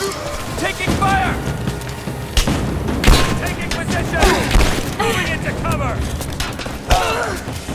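Gunfire and explosions during a firefight at a Soviet installation in Rise of the Tomb Raider, heavy booms and scattered shots under shouted in-game voices.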